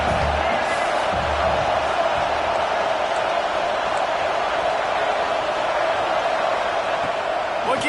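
Home crowd at a football game, a loud steady roar of cheering and noise filling the whole stretch with no break.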